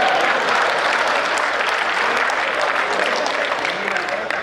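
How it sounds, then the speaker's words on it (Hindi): A crowd at a Hindi comic poetry gathering claps steadily and densely for the full stretch, a loud, even wash of many hands with voices mixed in underneath. "तालियां बजाओ"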